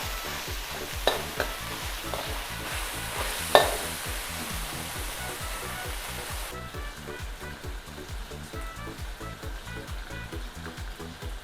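Liver frying with garlic and black pepper in a pan, a steady loud sizzle with repeated stirring scrapes and a few sharp clinks, continuous throughout with no talking.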